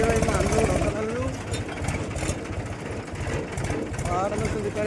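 A tractor engine drones steadily at close range while stones are loaded onto it in a hilly quarry, with the engine rumbling throughout and voices talking over it.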